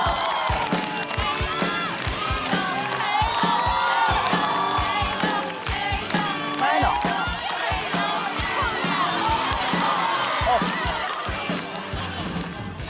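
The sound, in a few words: audience applause and cheering at stand-up comedy show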